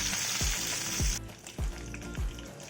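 Bay leaf, dried red chili, sesame seeds and curry leaves sizzling in hot oil give a dense, close crackle, broken by a few dull low thumps about every half second.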